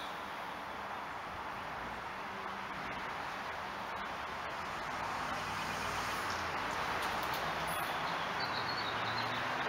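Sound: busy street traffic

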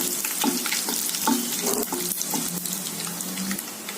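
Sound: mustard seeds and dried red chilies frying in oil

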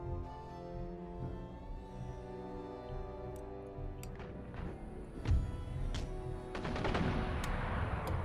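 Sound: gunfire of troops in video game Empire Total War

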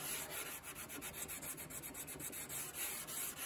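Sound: sanding wooden piano molding with edge of wooden block

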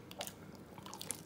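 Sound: chewing shrimp

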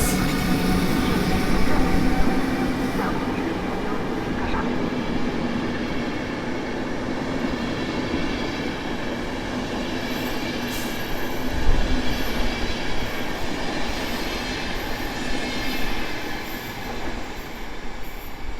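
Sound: PKP Intercity Premium express train arriving at platform

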